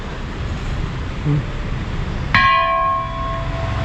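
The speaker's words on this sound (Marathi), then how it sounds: "राम मंदिरसुद्धा आहे त्याचीही खूप मोठी अशी ही घंटा आहे" A single loud strike of a very large Ram temple bell rings out over background street noise at a town square in Pimpri, its bright tone lingering and fading.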